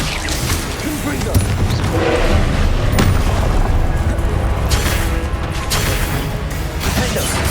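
Blasting-spell explosions in Hogwarts Legacy, heavy booming blasts and crashing impacts in a dense, loud combat mix, with a voice shouting spell names over the continuous roar.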